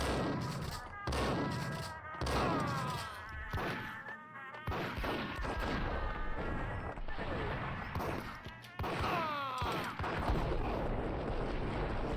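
Gunfire from the 2001 video game Max Payne, sharp repeated shots scattered through a busy mix of game voices and music, loud and close.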